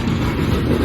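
Loud, close rumble of a freight coal train rolling past with distributed power locomotives, a continuous low roar with faint wheel clatter.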